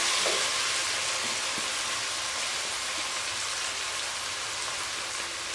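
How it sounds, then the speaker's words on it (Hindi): Spices tipped into a hot pan while cooking aloo matar, a steady close sizzle and fine crackling like light rain that runs without a break, with a faint stir or clink near the start. "अब मैं इसमें मसाले शामिल कर दूंगी।"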